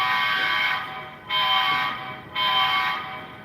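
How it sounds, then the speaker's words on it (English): Horn of an HO scale model locomotive, number 8104, sounding in three sustained blasts with short gaps between them, loud and bright with no voices over it. "here's the horn for 8104, which is my second locomotive"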